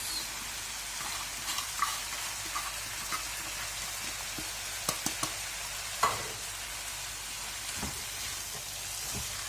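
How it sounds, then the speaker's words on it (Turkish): Washed rice is stirred into a Black Sea bean diblesi in a pot, giving soft, faint scraping and shuffling with a few small clicks of the spoon, steady over a low background hiss. "Karıştırıyoruz."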